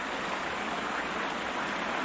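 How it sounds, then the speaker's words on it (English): Continuous rushing of animated lake water from Sherlock Holmes: Crimes and Punishments, an even broadband hiss like a stream, unchanging throughout and free of speech. "they did not need to do that. They could have just had this be a still lake, like many other games do. But they animated all this water."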